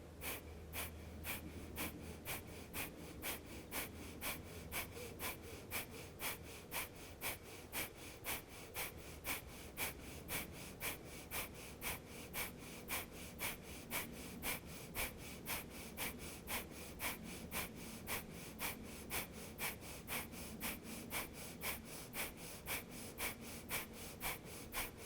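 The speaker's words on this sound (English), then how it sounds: "it's a powerful breath from the belly out through the nose" Rapid, forceful yogic breath of fire pumped from the belly out through the nose during a Kundalini yoga class, a steady train of sharp nasal exhales at roughly two per second continuing evenly throughout, close and clear with no talking.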